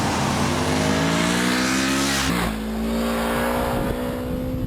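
A Honda Rebel motorcycle engine revving loudly up close, the pitch climbing steadily, then dropping sharply before settling into a rougher idle.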